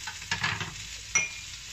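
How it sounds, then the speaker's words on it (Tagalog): Shrimp frying in a pan for pancit canton, with a couple of brief stirring scrapes and light sizzling bursts, close and fairly quiet, no talking. "Iluluto ko muna ito ang shrimp."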